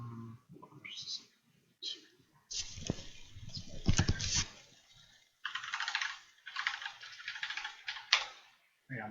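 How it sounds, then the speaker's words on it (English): Someone types on a quiet computer keyboard in quick, soft clatters of keystrokes, loudest in the middle, with brief pauses between bursts and faint voice-like sounds nearby. "my keyboard is very quiet."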